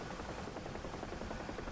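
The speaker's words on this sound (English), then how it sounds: "The CH-53s over here. These are my type of helicopters." CH-53 heavy-lift helicopters in DCS World thrum with a continuous loud rotor beat and turbine whine, close and unbroken over the short stretch, no talk.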